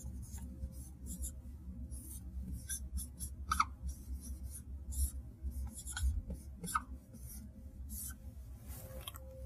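Hand writing of a maths lecture on a board: faint scratchy strokes and light taps in irregular bursts over a quiet room background, with no speech.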